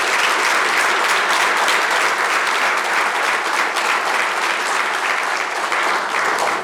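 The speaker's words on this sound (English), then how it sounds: "I appreciate that applause" A large audience at a strategic plan update for Birmingham City Schools breaks into sustained, loud applause, a steady dense wash of clapping that fills the whole stretch with no voices over it.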